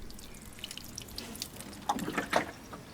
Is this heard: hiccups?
no